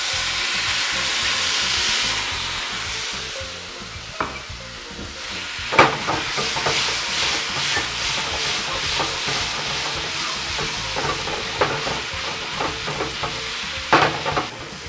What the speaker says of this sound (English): I'm going to add the shrimp to the hot pan.